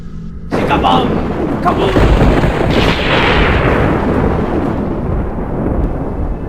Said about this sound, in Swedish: Men då plötsligt slog åskan ner.